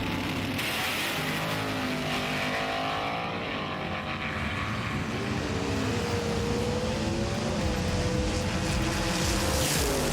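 Two drag race cars, one a Cadillac, roar down the strip toward the finish line, their engines droning loudly and continuously with rising and shifting pitch, close and unbroken throughout.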